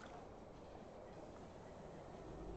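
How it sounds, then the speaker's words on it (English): A train rumbles in steadily during the frozen lake level of the strategy video game They are Billions, a faint, continuous low rolling noise with no voices. "The train has arrived."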